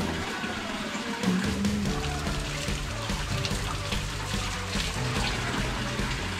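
Water from a waterfall near Lavras Novas, a district of Ouro Preto, rushes steadily close by, a dense continuous splashing wash with a few brief tonal voice fragments mixed in.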